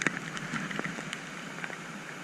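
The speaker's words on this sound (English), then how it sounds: "I've got wind and rain" Rain patters on a surface in a forest, faint scattered drops ticking over a soft steady hiss, with no voices.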